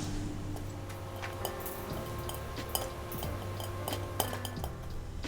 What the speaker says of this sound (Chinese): 现在我们开始听到它弹的声音了，慢慢弹了。